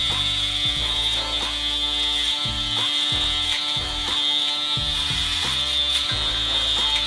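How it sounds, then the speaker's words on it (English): An Andis foil shaver buzzes steadily and close up with a constant high-pitched whine, while a lower motor tone shifts and stutters in short bursts as the shaver moves over the skin. No one speaks. "And then I'll use my Andis full shavers"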